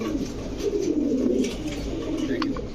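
Imported-bloodline pigeons such as Teddy, Damascene and Budapest breeds coo inside a pigeon shop, low throaty cooing close by and continuous, with faint chirps and distant murmurs in the background.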